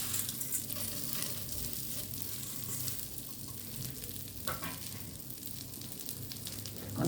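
Flattened rice (chira) frying in a pan for Bengali chira bhaja, giving a steady, close sizzle with soft crackling throughout and no voices.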